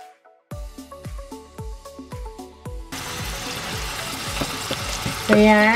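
Meat patty sizzles in oil in a pan for lasagna: a steady, dense crackling fry rises after about three seconds of plucked music and continues fairly loud to the end.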